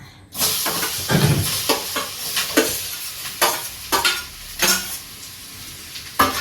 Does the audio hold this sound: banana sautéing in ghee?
yes